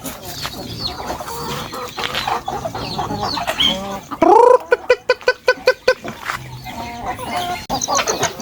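A breeder hen and other farm chickens cluck in a run, giving a string of close, throaty clucks and short squawks, with a louder burst of rapid, rhythmic calls in the middle.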